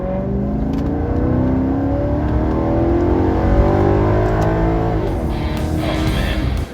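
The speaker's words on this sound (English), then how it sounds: "let's do some LA freeway driving here. I'll put it in sport mode for that." Maserati Quattroporte in sport mode on an LA freeway, engine note climbing steadily through the revs with rising harmonic whine, a brief dip at a gear change, then pulling hard again, loud and close.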